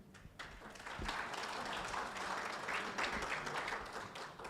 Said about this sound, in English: Can you join me in applauding our panelists?